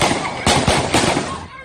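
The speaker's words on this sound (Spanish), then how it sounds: "una protesta por la escasez de gasolina silenciada a balazos por la Guardia Nacional" Sharp bursts of gunfire at a street protest over fuel shortages in Venezuela, several loud cracks in quick succession over a harsh, noisy crowd background, close and chaotic.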